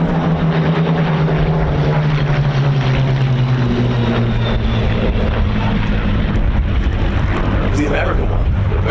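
Spitfire fighters, including a red-nosed Mark 16 and a Mark 5, broken from a Vic formation into a tail chase at an airshow, loud piston engines droning and shifting pitch as they pass, with a commentator talking over them.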